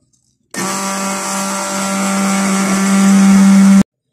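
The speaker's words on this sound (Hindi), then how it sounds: "इन तीनों चीज़ों को ब्लेंड कर लेंगे" A blender whirs steadily for about three seconds, blending strawberry ice cream ingredients with cream; the motor hum is loud and close, rising slightly in pitch before cutting off abruptly, with silence at both ends.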